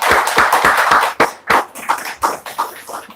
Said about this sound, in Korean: 박수로 환영해 주시겠습니다.